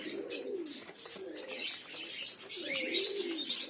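Pigeons in a loft of flying and fancy birds coo softly and repeatedly at close range, with light chirps and faint rustling around them and no talk.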